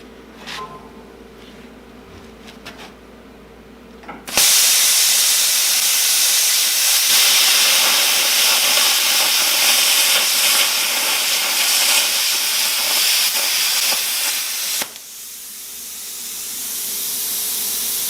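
A Prime Weld Cut 60 plasma cutter slices through stacked quarter-inch steel plate: a loud, steady broadband roar with hiss starts abruptly after a quiet idle hum, holds for about ten seconds, then cuts off sharply.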